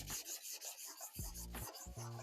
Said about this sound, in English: now we will do 600 grit sandpaper, do a light sand